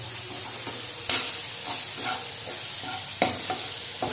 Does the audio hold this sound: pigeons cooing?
no